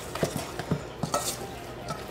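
A Swedish meatball mixture with salt and pepper is mixed in a bowl, giving soft, irregular squishy taps and light scraping, close and fairly quiet.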